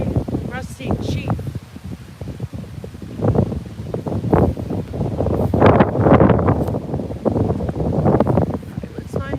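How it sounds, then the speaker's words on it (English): Wind gusts across an outdoor pet cemetery at Pine Ridge in Dedham, Massachusetts, rumbling and buffeting the microphone in uneven surges, with murmured voices mixed in. "Oh, it's getting windy."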